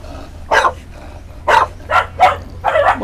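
A dog barks five times in spaced, sharp bursts, fairly close and loud, with a low hum underneath.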